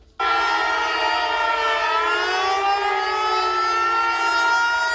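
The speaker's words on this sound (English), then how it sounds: "Oh yeah, there's sirens here too." A civil defense siren on a tower starts abruptly and holds a loud, steady, wailing tone. Its pitch drifts slowly downward and does not stop for several seconds.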